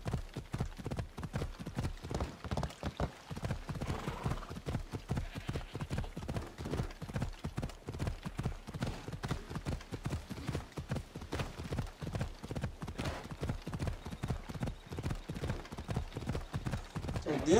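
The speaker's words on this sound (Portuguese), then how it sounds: "Vai, cavalinho, sobe." A horse gallops uphill in Assassin's Creed Odyssey, its hooves beating a fast, even, loud rhythm from start to finish, with a faint snort or whinny near the middle.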